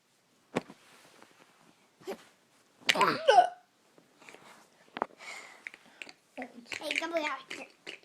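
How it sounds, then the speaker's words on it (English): A woman hiccups in a home, a few sharp short bursts spaced apart, with someone talking nearby and soft bumps around. "We're going to hold our breath, see if Mom can get rid of her hiccups."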